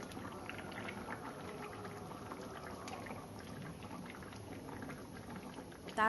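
A light lata fish curry with cauliflower and potato simmers in a pan, a faint, steady bubbling that continues without a break and ends in a short louder knock.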